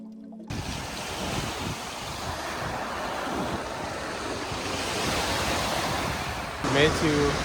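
Strong wind roars steadily across a microphone on the California coast near open water, a dense, blustery rush that swells slightly toward the end with a brief louder gust.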